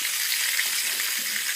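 Food shallow-fries in a small amount of oil with a bright, steady hiss, close and unbroken, with no talking.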